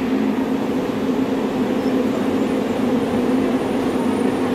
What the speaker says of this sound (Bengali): আর ট্রেন এসে গেছে আর কি,